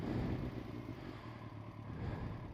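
A Kawasaki ZZR 1400 motorcycle engine runs with a low, steady idle rumble, close by and fairly quiet, with no talking over it.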